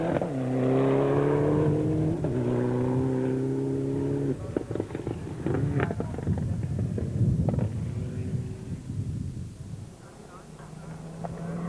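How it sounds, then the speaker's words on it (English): A Subaru rally car at the 2006 Sasol Rally revs hard with rising engine tones and gear changes early on, then fades into rougher, noisier running beneath steady commentary. "Rueda, though, spun in his attempts to keep up with the rapid Subaru"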